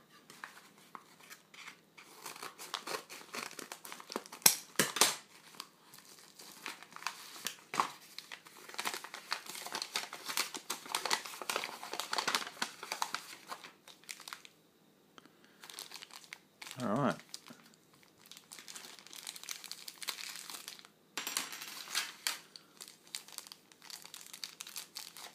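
Plastic packaging crinkles and rustles while a small Mad Magazine collectible marble is unboxed, a long stretch of close crackling and crumpling with brief pauses and occasional snips.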